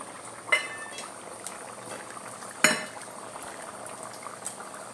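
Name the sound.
chopped shallots frying in hot coconut oil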